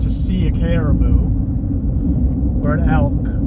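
A car drives over a rough backroad in the cattle country of southern Arizona, making a loud, steady low rumble throughout while someone talks over the road noise.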